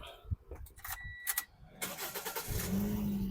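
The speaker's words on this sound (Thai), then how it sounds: "สตาร์ททีเดียวติดนะครับผม" Clicks and a brief starter whir, then a Toyota Vios 1.5E engine catches on the first try and settles into a steady idle close by.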